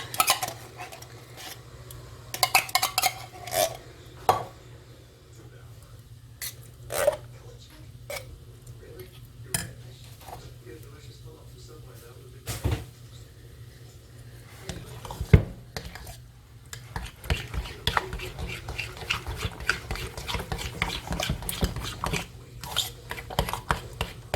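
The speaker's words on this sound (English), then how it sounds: "We're going to spoon in both of your cans of soup." Canned soup spooned into a pan while cooking chicken spaghetti, with repeated metal clinks and scrapes of a spoon against the pan and a soft stirring clatter, fairly close and continuing throughout.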